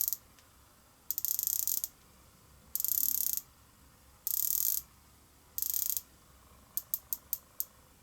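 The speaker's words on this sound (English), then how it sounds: "the sharpness of the bezel, the way it clicks" The bezel of a Rolex Sea-Dweller 126600 diver's watch is turned in four short bursts of crisp ratcheting clicks, then a quick run of five separate sharp clicks, all close and alone in a quiet room.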